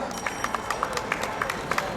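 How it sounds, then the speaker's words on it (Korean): Applause from an outdoor Christmas festival crowd at Yeongdeungpo Station, with scattered, uneven claps standing out over a steady background murmur, fairly soft and moderately distant. "디카도사에게 박수 한번 주시기 바랍니다"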